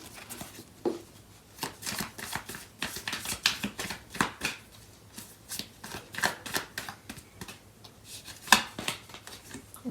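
A deck of tarot cards is shuffled by hand, giving repeated close, crisp riffling and slapping bursts in an irregular rhythm with short pauses between them, and no talking.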